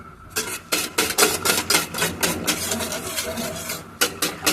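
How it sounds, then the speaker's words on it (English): A whisk scrapes rhythmically through a blended mixture in a pot over a lit flame, making repeated close, brisk strokes that continue steadily throughout. "now I'm going to be lighting up that flame and whisking it"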